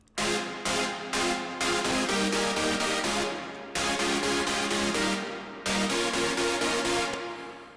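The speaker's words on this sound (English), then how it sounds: "We have these big room saws here, it's called super saws." Loud, dense stacked supersaw synth chords in sustained blocks, each sharp-edged and broken by brief gaps, with a bright buzzy sheen.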